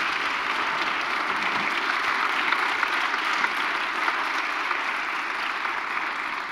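A seated audience applauds at a public discussion, a continuous even wash of many clapping hands held at steady loudness throughout, with no talk over it.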